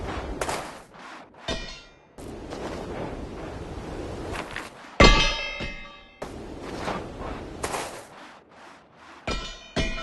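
Metal weapons clang and ring out in the Overgrowth video game, with several sharp metallic hits and ringing tones, loudest near the middle, spaced across the clip over a windy, whooshing game backdrop.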